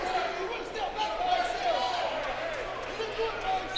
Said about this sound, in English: You hear the crowd growing impatient, all calling for a foul.